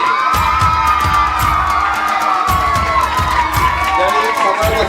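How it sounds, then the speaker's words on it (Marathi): Crowd at an outdoor marathon honour ceremony cheers and applauds loudly and steadily, with shouts and whoops rising over dense clapping and a few thumps, continuous from start to finish. "जोरदार टाळ्या वाजल्या पाहिजेत."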